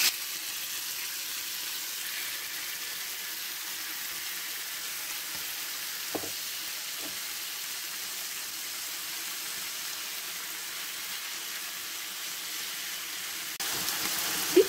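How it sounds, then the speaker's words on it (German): Chicken breast fries in hot oil in a pan on the highest heat setting, giving a steady, even sizzle that continues nearly unbroken. A couple of brief clinks come near the middle, and there is a short louder stir near the end. "lasse das Fleisch jetzt schön anbraten"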